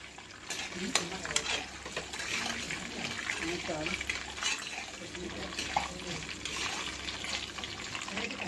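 Cumin seeds and dried red chilies sizzle in hot oil with a continuous crackling hiss, broken by stirring scrapes and pan clinks, while a voice talks over it.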